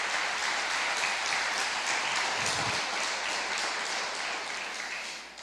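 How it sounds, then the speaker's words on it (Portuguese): A church congregation claps during a Portuguese-language sermon, broad sustained applause filling the room evenly and then easing slightly at the end. "Você pode aplaudir a Jesus."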